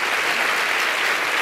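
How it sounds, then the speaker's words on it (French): Steady applause from a studio audience at a French-language comedy show, dense and continuous clapping filling the room throughout with no talk over it. "Là, les gens applaudissent."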